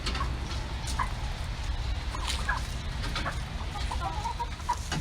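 Molting hens cluck and murmur near a chicken perch, with short soft calls scattered over a constant low background rumble, several birds audible at once.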